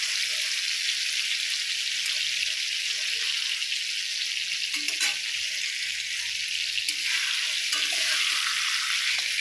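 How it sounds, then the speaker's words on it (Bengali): Ridge gourd frying in hot oil in a pan, a steady close hiss and sizzle throughout with occasional stirring clinks, no voices. "সুন্দর মতন খুব সুন্দর করে কিছুক্ষণ ভেজে নিয়েছি। ঝিঙে প্রায় সেদ্ধ হয়ে গেছে।"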